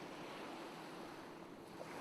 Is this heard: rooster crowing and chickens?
no